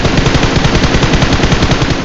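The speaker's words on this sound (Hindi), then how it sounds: "अब भाई तभी पीछे से गोलियां पड़ती है मेरे को" Gunfire in the BGMI video game rings out as a loud, rapid burst of automatic shots, steady and close, with no talk over it.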